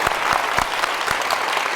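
An Apple Store crowd in Berlin claps warmly for a singer, an even, sustained wash of close applause with no break.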